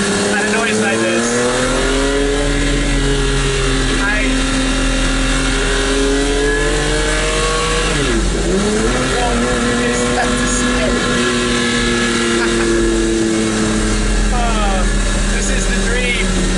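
A Maserati MC12, a road-legal race car, revs hard and accelerates with a loud, sustained engine roar that rises and falls in pitch close by, while a voice talks over it.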